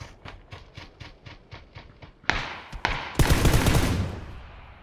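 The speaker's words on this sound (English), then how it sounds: "Oh, now we're getting shot at" Gunfire from players in the shooter game PUBG: a rapid burst of closely spaced shots, then several louder, nearer single cracks and a heavy volley that trails off.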